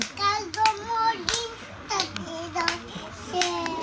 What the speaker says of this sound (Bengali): হাততালি দিস সবাই হাততালি যাও